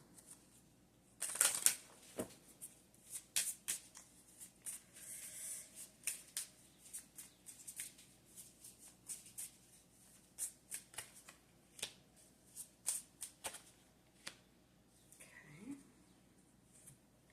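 Tarot cards shuffled by hand in a quiet room, a string of crisp riffling bursts and soft card slaps coming in irregular clusters, close and fairly quiet, with no talk over them.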